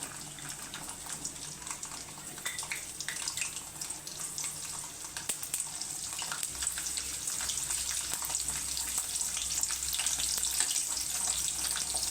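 Garlic cloves drop into hot oil already holding cumin seeds, and a steady sizzle swells louder and denser halfway through, continuing alone with no voices.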